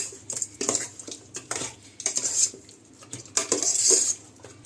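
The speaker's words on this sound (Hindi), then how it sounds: "अब इन सभी चीजों को अच्छी तरह से मिला लीजिए।" Chicken is mixed with yogurt and spices in a metal pot, giving close, repeated scraping and clinking of a spoon against the pot in irregular bursts.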